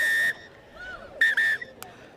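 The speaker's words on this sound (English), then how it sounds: "double blast of the whistle" A referee's whistle at a women's under-20 rugby match sounds loud and shrill, with one blast at the start, then a quick double blast, over crowd murmur and commentary.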